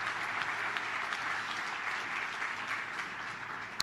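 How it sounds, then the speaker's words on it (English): A conference audience at the Raisina Dialogue in India claps in sustained, even applause after a speech, a dense continuous patter filling the room with no voices over it. "please join me in applauding him for his wonderful address"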